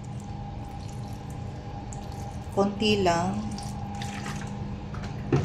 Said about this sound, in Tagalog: Maglalagay din ako ng konting tubig.